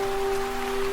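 Steady rain falls in the video game Love and Deepspace on a tourist street lined with shops, a soft continuous hiss with a faint sustained tone running through it, and no voices.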